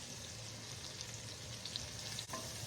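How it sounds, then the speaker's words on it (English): Onions and mushrooms fry in a skillet of oil left from cooked steaks, giving a steady, dense sizzle and crackle close up with no talking, plus a brief dip as food is stirred. "now I added another tablespoon of oil, and we are going to now add those onions and mushrooms."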